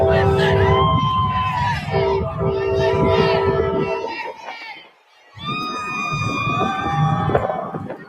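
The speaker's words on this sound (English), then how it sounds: "Here's the huge crowds." A large roadside crowd in Pennsylvania awaiting Trump's drive-by fills the air with loud hubbub, while wailing sirens rise and fall over it and briefly drop away before returning.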